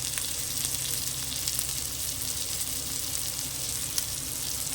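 Shrimp and grated coconut fry with spices in a pan, giving a steady, close sizzle with faint crackles and a few light stirring sounds, and no one speaks.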